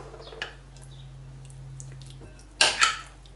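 Spoon working through a bowl of salad with yogurt, shredded zucchini, carrot and dill, a few soft scrapes then two loud sharp clinks of metal against the bowl near the end, close up with no talking.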